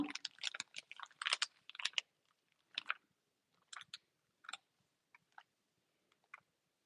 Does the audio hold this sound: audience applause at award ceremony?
no